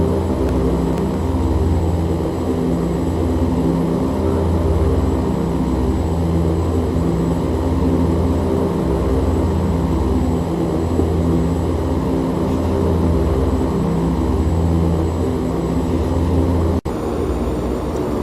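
Steady, loud drone of an OV-10 Bronco's turboprop engines in a VR flight game, continuous and unchanging throughout with a faint pulsing throb and no talking.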